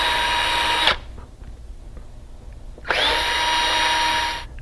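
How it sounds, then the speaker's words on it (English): A power drill with a 1/8 inch bit whirs loudly for about a second while pre-drilling pilot holes for a door reinforcement lock, stops briefly, then spins up again for a second burst. "we're ready to pre-drill our other 3 holes with the 1/8 inch drill bit"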